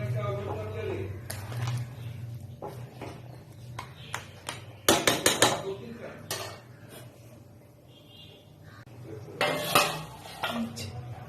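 A lid going onto a pot of simmering Mughlai chicken curry gives a few close metallic clinks and clatters, with a speaking voice around the kitchen sounds.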